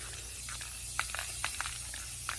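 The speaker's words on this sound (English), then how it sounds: "So I'm just going to spray paint this" Short hissing bursts of spray paint from an aerosol can coat a pink tray, several brief sprays spaced over a steady low background hum, fairly quiet and close.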